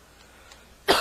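A single sharp cough bursts out near the end after near silence, close and fairly loud.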